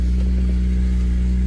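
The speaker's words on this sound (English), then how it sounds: "Probably hearing a lot of turbo rattle." Cold-start idle of a 2008 BMW 135 fitted with downpipes, its turbo rattling over a steady, deep, close engine drone with a light clattery texture throughout.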